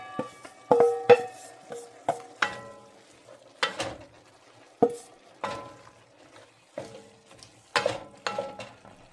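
Ingredients for a tortilla soup cook in a pot, with a soft steady sizzle broken by sharp, irregular clanks and scrapes of stirring against the pot, close up and with no voices.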